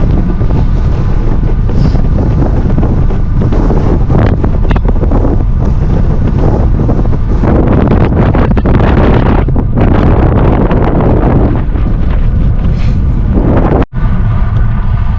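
Strong wind buffets the microphone of a cyclist riding a 500 km solo race around Paris on open country roads, a loud continuous roar that swells and dips, with a brief dropout near the end.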